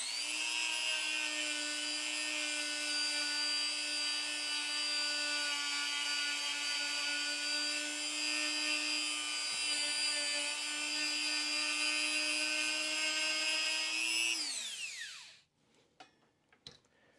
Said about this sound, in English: So I basically put a little polish on the Dremel.